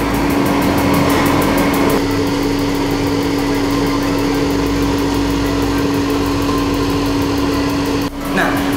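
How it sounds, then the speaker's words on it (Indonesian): The blower on a chip-drying oven machine runs with a steady mechanical hum and whir that stays level and close throughout, with a strong constant drone and a brief shift near the end. "di sini juga kedengaran untuk suara blowernya sedang berfungsi"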